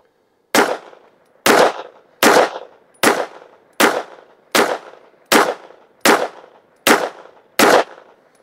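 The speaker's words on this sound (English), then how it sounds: "We're gonna shoot a 10 shot group at the top right target." Ten sharp gunshots fired with Federal ammunition through a Strike Industries Strike Micro Comp Quad compensator, evenly spaced about a second apart, loud and close with short decaying tails.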